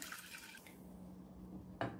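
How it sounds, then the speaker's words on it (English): Water poured from a glass into a cooking pan, a soft steady trickle running for about two seconds and ending in a brief louder splash as the last of it lands. "First, take a pan, add 1 glass of water,"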